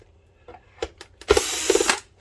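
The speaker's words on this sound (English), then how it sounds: "we have 1, 2, 3, 4, 5, 6 screws to take out" Power screwdriver backing screws out of an Optoma EH341 DLP projector during repair: a few short faint buzzes, then one louder whirring burst lasting under a second, close up and alone.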